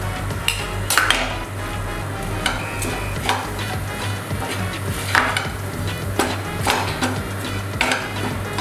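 A spoon stirs MTR puliyogare mix in a pan on a low gas flame, with repeated scraping strokes and light metallic clinks over a soft sizzle, close and fairly loud with no talking.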